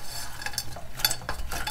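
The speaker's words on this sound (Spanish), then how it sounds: "Le seguimos revolviendo." Spoon scraping and stirring walnuts through sugar syrup crystallizing in a pan while making Mexican candied nuts, brief close scrapes and gritty rustles over a low background hum.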